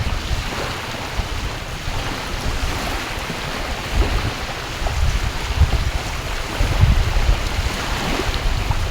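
Sea waves wash steadily against the shore, a continuous broad rush with swelling surges and some wind buffeting the microphone, no voices.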